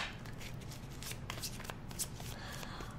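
Tarot cards being shuffled by hand in a steady run of crisp riffling flutters and soft slaps, close and fairly quiet, with no talking over them.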